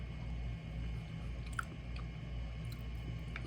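Someone eats MRE cherry cobbler with a spoon, making quiet, soft chewing and squishing sounds close to the mic, with a few faint clicks of the spoon and no speech.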